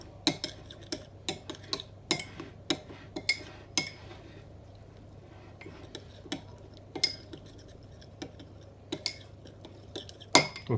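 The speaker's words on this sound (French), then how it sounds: "Je mets mon cumin, le paprika. Maintenant, je vais mélanger." Cumin and paprika are stirred into a kefta and aubergine marinade in a bowl, with scattered light clinks and taps of a utensil against the dish, fairly close but soft over a quiet background.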